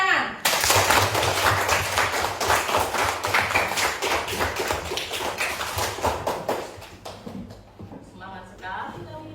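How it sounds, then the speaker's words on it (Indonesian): Students in a classroom clap together in an energetic, rapid burst of sharp hand strikes that starts abruptly, stays dense for several seconds, then thins out and fades, with a low steady hum and a voice audible afterward. "Beri tepuk tangan."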